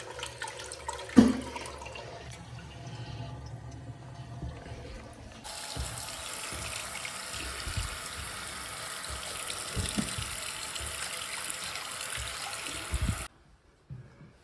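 A newly plumbed toilet pan fills with a steady rushing, trickling flow of water once the supply is turned back on, continuing for several seconds before cutting off abruptly.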